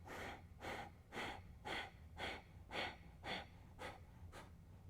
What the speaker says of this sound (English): Nice deep inhale.